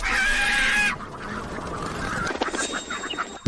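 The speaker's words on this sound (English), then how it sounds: "The chickens and ducks all ran into our own greenhouse." Chickens and ducks clucking and quacking together in a loud flock, a dense layer of calls for the first second, then softer mixed squawks continue, with a sharp knock near the end.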